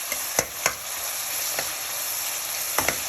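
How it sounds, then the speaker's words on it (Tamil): Onions sizzle steadily in a pan while cooking for prawn biryani, with a constant close frying hiss and a few sharp ticks from stirring, no talking. "வெங்காயம் நல்லா வதங்கணுங்க."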